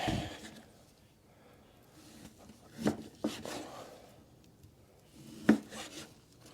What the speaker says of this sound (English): we're going to take and slice it long ways like this